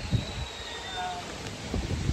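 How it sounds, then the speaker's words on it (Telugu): Rain falls outdoors as a steady broadband hiss with light wind buffeting the microphone, while a voice talks over it in bursts near the start and end. "వర్షం పడుతుంది, క్లౌడ్స్ గెటింగ్ డార్కర్"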